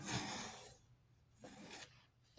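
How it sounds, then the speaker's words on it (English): A small scraper tool rubs firmly across paper on a book page, secured with double-sided tape, giving a close, quiet rasping scrape in two or three short strokes separated by brief pauses. "take the little scraper tool here and just get that down nice and secure"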